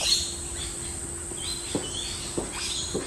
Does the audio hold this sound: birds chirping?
yes